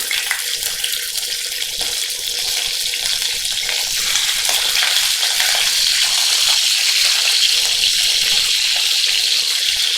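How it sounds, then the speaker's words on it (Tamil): Chicken pieces frying in hot ghee in a pan, a loud, dense, continuous hiss of sizzling oil that holds steady throughout, close up with no talking. "நெய் நல்லா ஹீட் ஆன உடனே சிக்கன் ஆட் பண்ணிக்கலாம்."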